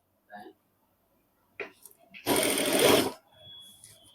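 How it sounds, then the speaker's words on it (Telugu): An electric sewing machine stitches a cloth face mask in a short, loud, close burst of rapid whirring, preceded by a few brief clicks and followed by a quieter hum. "దీన్ని రౌండ్ ఇలా కుట్టేసుకుంటూ రావాలి."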